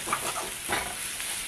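Masala spices sizzle in a pan for a kadai mushroom gravy while a spatula stirs them, giving a soft, steady frying hiss with a few scraping strokes. Close and moderately quiet, with no talking.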